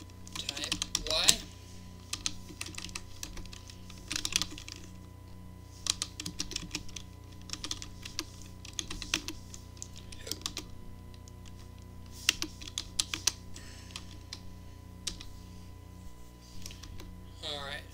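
Steady typing on a computer keyboard while coding in Unity, with close, irregular bursts of key clicks over a constant low hum for much of the clip.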